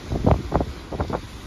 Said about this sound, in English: It is windy, though, and some of the gusts are pretty bad.